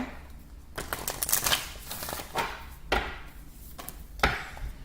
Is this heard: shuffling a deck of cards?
yes